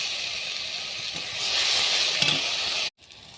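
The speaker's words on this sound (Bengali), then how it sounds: "তরকারিটা তোলার জন্য জিরে ফোড়ন দিয়ে দেবো, পেঁয়াজ বাটা দিয়ে দেবো" Cumin seeds and onion paste sizzling loudly in hot oil, a close, steady hiss that swells midway with faint stirring, then cuts off abruptly near the end.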